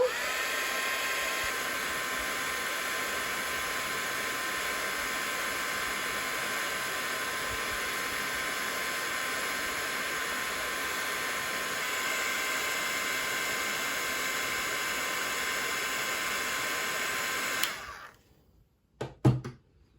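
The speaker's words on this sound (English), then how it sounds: "I'm going to take my craft pick and my heat tool." Heat tool blowing hot air onto shrink plastic on a craft surface, a loud continuous whirring hiss for about eighteen seconds before it switches off, followed by a couple of faint handling knocks.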